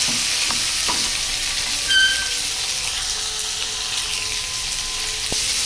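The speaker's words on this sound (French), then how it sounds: "verser vos légumes réservés afin de les faire dorer et réchauffer" Reserved Jerusalem artichokes browning in a pan with duck fat give a steady, close sizzle that runs without a break, with a few faint scrapes and knocks from stirring.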